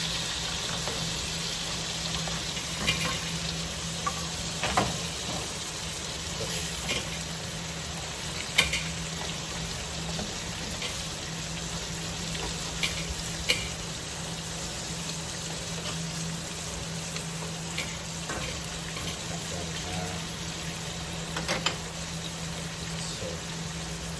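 Pork steaks frying in a pan give a steady close sizzle with a low hum underneath, punctuated by occasional faint clicks and taps of utensils, over a long stretch without talk.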